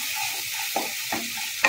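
Kashmiri chili powder is stirred into pav bhaji sizzling in a pan, with a steady fry and two or three scraping spatula strokes against the pan, close and unaccompanied.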